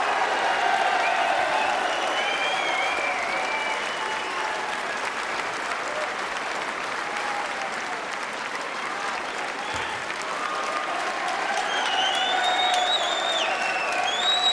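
A snooker crowd at the 2014 Welsh Open gives a standing ovation after a 147 break, with loud, sustained applause, scattered cheers and whoops, filling the hall without pause for the whole stretch.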